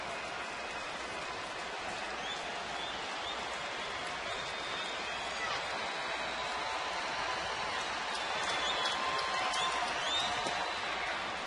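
A ballpark crowd of Cardinals and Astros fans at a night baseball game makes a dense, continuous wash of cheering and noise that swells slightly toward the end, with no clear voices standing out.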